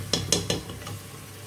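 Cooked keema karela, minced meat with bitter gourd, being served out of a pan, with three quick close scraping knocks of a spoon against the metal followed by a fading sizzle, without talking.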